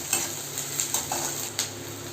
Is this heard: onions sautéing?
yes